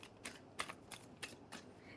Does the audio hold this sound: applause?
no